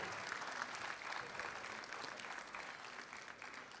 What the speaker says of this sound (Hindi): आपकी बहुत सारी तालियों में हम बुके पेश कर रहे हैं मिसेज़ माया रानी जायसवाल को।